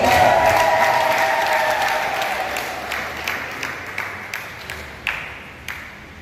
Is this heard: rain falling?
no